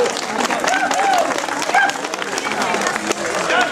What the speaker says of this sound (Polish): ogromne brawa jeszcze raz